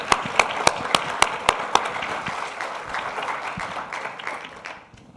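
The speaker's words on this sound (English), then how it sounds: "I'd like to hear a round of applause for the people behind the scenes that make this event take off." An audience at a conference event claps for the behind-the-scenes crew, a few sharp claps up front blending into a brief moderate applause that fades out after a few seconds.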